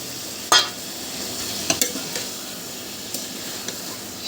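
Boiled taro tipped into masala frying in oil, an initial clatter as it lands, then a steady sizzle with intermittent spoon scrapes and taps against the pan.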